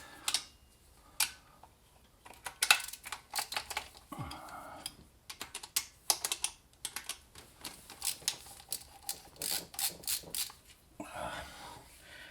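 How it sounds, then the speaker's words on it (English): Bolts are undone by hand on a Holley 650 double pumper carburetor fitting on a 1966 Mustang: a run of close metallic ticks, clinks and ratchety taps in irregular bursts, with a brief scrape partway through. "Just undo the bolts here."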